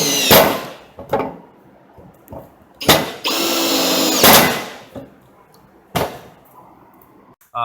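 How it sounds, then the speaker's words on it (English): Screws are driven into drilled holes in a mast, heard as short close bursts of a power driver, including one sustained whirring run, separated by pauses and small handling knocks. "this is when you're going to add your two screws"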